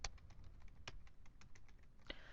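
Someone types on a computer keyboard while entering spreadsheet text: quiet, close, irregular key clicks in a quick run, with a louder isolated tap near the end, and no speech.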